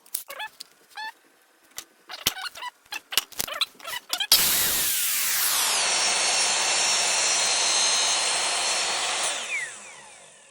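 A power saw cuts wooden drawer sides: after a few clacks and taps of handling, the motor spins up into a loud, steady whine with the cutting noise, then winds down at the end, heard close with no speech.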